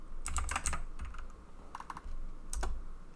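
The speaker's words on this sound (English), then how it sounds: "if you hear typing, that's probably why" Quiet clusters of computer keyboard keystrokes in short bursts separated by brief pauses, close and crisp with no voices.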